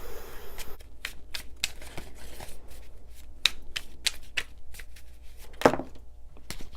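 Tarot cards shuffled by hand during a reading for the sign of Cancer: quick, irregular riffles and papery flicks with a few crisp snaps, close and moderately soft, with no talking.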